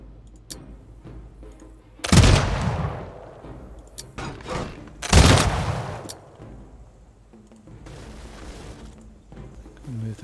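Artillery guns firing in the strategy game Humankind: two loud booming volleys with rolling rumble tails, separated by a few seconds, over quieter battle noise and someone talking.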